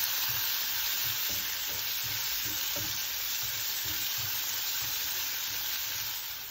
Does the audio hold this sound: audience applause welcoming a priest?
no